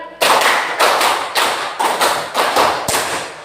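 Students in a classroom clap together in a counted routine, seven sharp unison claps at a steady beat, each ringing briefly in the room, with no talking between them.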